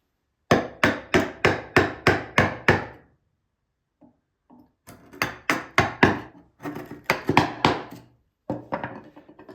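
Mallet strikes on a chisel chopping out a mortise in wood for a mortise and tenon joint, rapid bursts of sharp knocks in quick rhythmic runs separated by short pauses, close and loud.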